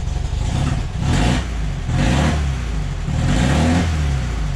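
A Volkswagen engine catches and revs in a garage, rising and falling through several throttle blips over a rumbling idle, loud and close with no talk.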